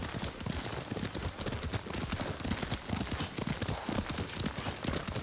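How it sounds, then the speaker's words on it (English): Horse hooves clip-clopping at a steady riding pace in Ghost of Tsushima, a brisk continuous rhythm of hoofbeats with faint background ambience. "Lord Sakai taught me to ride a horse."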